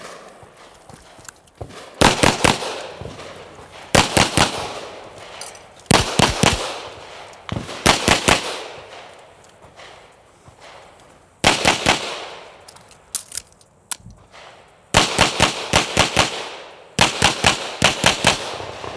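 Sharp gunshots ring out in rapid strings of three to six at a practical shooting competition stage, loud and close with pauses between groups and a faint background hum.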